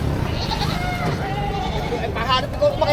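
A male goat at a livestock market bleats with a wavering, nasal cry amid a noisy outdoor background, with people talking nearby.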